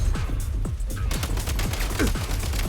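Rapid automatic gunfire from combat in the Genshin Impact video game, a steady, loud barrage of repeated shots filling the whole stretch without talk.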